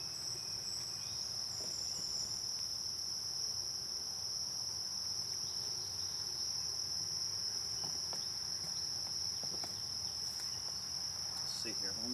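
Honeybees swarm densely around an open hive with a big population, a steady unbroken hum holding level throughout with faint scattered ticks and no talking.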